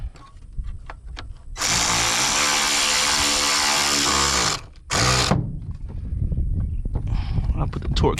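Power driver tightening throttle body screws on a 2012 Volkswagen Passat, close and loud: a long whirring burst of about three seconds, then a short second burst, with workshop noise around it.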